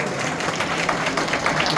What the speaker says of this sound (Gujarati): આપણે સૌ તાળીઓથી વધાવીએ.